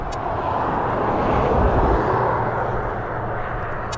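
An airplane taking off at East Midlands Airport, a loud, steady broadband engine roar with low rumble that swells and holds, heard from nearby outdoors with some wind noise.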